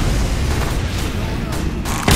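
Booming explosions from rocket jumping among Halloween pumpkin bombs in Team Fortress 2, a dense, continuous rumble of blasts filling the clip with a sharper burst at the very end.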